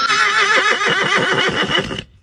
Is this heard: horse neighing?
yes